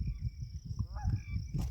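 A flock of Canada geese with goslings honks faintly in open badlands country, with a few short distant honks over a low rumbling background.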